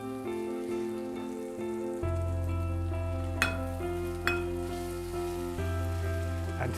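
Pad thai rice noodles with spring onions stirred in a hot frying pan give a steady close sizzle and fry hiss, with a couple of sharp scraping clinks of the utensil partway through.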